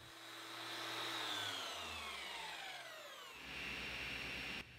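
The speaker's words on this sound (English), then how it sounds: "I'll use my belt sander clamped upside down to the work table to sand them smooth" A belt sander clamped upside down to a work table sands small white oak pieces smooth, a steady loud motor whine with shifting pitch as the wood is pressed against the running belt.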